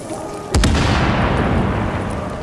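An enemy tank blows up in The Division, a sudden loud blast about half a second in that rolls into a long rumbling tail of debris and reverberation.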